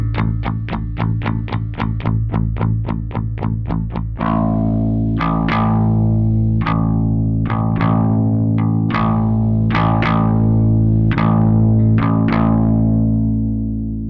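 Bass guitar picked through a Tech21 VT Bass DI with the bite control engaged, giving a bright, gritty tone: a fast run of evenly repeated plucked notes, then slower, sustained notes with sharp attacks, loud and close with no talking.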